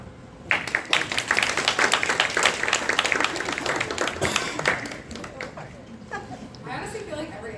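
Audience clapping at a community storytelling event for the ACLU-VA, a broad wash of applause that swells early, holds steady, then thins out toward the end, with some chatter and voices mixed in.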